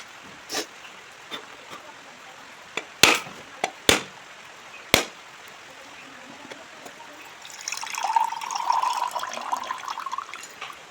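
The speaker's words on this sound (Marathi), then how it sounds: "आता फोडायचा, गलासात पाणी घ्यायचा" A coconut is struck with a machete in several sharp, separate chops, followed by a soft, steady trickle as its water pours into a glass, all fairly close and quiet.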